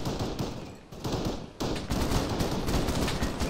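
Rapid gunfire crackles through an ARMA 3 firefight: dense, overlapping bursts and machine-gun volleys, loud and sustained, with a brief lull before the shooting picks up again, and no voices.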